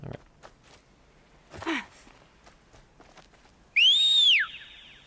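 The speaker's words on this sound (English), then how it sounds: "That's a loud whistle there, Aloy." Aloy gives a loud, piercing whistle in the video game Horizon Zero Dawn Remastered, a single rising and falling tone that follows soft footsteps and faint game ambience.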